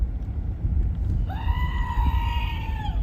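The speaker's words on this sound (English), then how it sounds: "Come on, goat, get with it there." A goat bleats once, a loud, drawn-out wavering cry that begins midway and holds steady to the end, heard over a low rumbling background that sounds like an idling vehicle.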